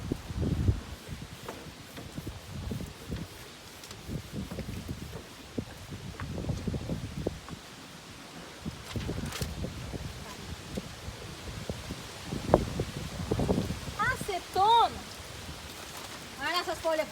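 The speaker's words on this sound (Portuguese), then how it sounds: "Olha essas folhas voando, que o vento hoje está uma beleza" Outdoors, wind gusts blow and scatter loose leaves, producing irregular bursts of dry rustling that swell and fade, with a few faint higher chirps near the end.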